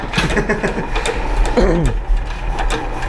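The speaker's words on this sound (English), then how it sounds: "Just started his first hot tube engine." A small antique hot tube engine starts up and runs with a fast mechanical chatter and rattle, close by, while people talk over it.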